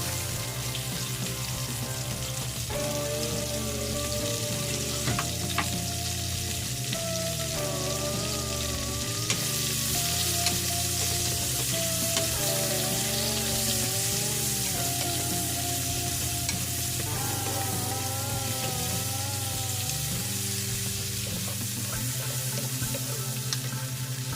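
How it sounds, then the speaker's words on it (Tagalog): White onion fries in a pan for a salmon dish, a constant loud sizzle with stirring, while background music plays throughout and no one speaks. "Lutuin natin yung sibuyas natin dyan. White onion."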